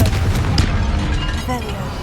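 Confringo fire spell explosion in the Hogwarts Legacy video game, a short heavy boom with rumbling low end and crackle, loud and close, under a voice speaking.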